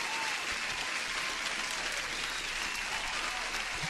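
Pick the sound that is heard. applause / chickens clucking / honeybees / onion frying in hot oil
applause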